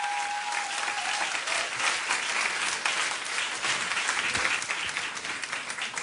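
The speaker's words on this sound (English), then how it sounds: "let's give them one more round of applause now that we've got them all up here" Sustained applause from an indoor audience at a NASA Mars landing event, dense steady clapping filling the whole stretch with no voices over it.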